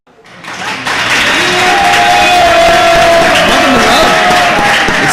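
A live audience breaks into applause at a sports show broadcast from Hooters of Newark. The clapping swells from silence within the first second and then holds loud and dense.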